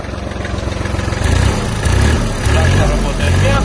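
A Kubota GL-21 21-horsepower Japanese mini tractor engine runs at a steady, close diesel idle, its even chugging continuous throughout while someone talks over it.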